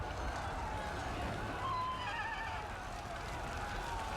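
A horse whinnies with a rising, wavering neigh in the middle of a Total War battle, moderately loud over a steady background of combat noise and hoofbeats.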